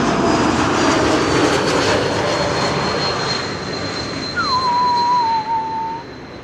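An Embraer E2 jet arriving at Schiphol from Ljubljana gives a loud, sustained engine roar with a thin high whine, easing off slightly toward the end, with a brief whistling tone near the finish.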